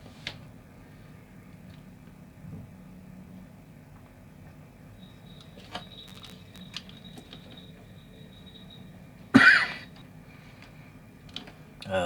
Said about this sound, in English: Sorry for the cough. I have a dry throat today.